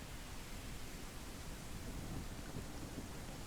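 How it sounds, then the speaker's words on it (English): Steady rain with a low thunder rumble in the farming game Ranch Simulator, a faint, even hiss of downpour that holds without a break and has no voices. "Oh, and it's raining."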